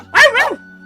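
A single short dog bark, two quick yelps in under a second, sounds loud and close in the Genshin Impact video game, alone over a low steady background hum.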